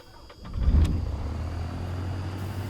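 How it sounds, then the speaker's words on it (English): A light aircraft engine cranks and catches in the X-Plane 11 flight simulator, quickly settling into a steady low droning hum that is close and moderately loud. "And we can start the engines."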